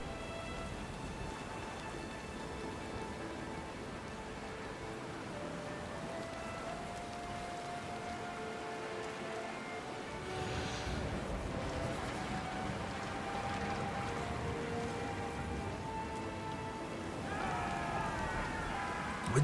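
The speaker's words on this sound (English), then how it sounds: "Oh boy, we've got a storm coming." Steady rainstorm in the video game Pillars of Eternity II: Deadfire, a continuous wash of rain with a faint tonal music bed, growing slightly louder partway through, with no voices.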